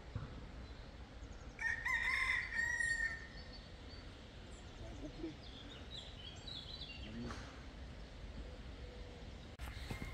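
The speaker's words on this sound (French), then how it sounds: "Et nous tombons dans le quartier des Coqs." A rooster crows loudly nearby, with other roosters answering faintly in the distance over soft outdoor background noise, beside the Via Francigena hiking trail in France.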